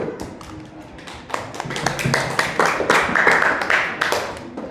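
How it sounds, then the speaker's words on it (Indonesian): Students in a classroom clap for a group called up to present, the applause rising from scattered taps into a fuller, close round with some voices and thumps mixed in. "Tepuk tangan untuk kelompok 1."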